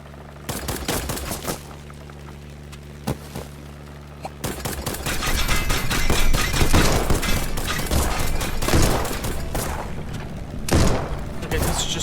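Gunfire from the Black Skylands video game, starting as a few sharp isolated shots and building into dense, continuous volleys with booms and thuds, loud and close under a talking voice.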